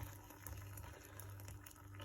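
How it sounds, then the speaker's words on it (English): Just-boiled water pours steadily into a coffee percolator, a continuous gushing fill with a low hum beneath it. "So we're just going to pour in the water, like so."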